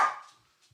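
Dogs bark at a home when someone arrives: one sharp, fairly close bark that fades quickly, then a short stretch of near-silence before another bark starts right at the end.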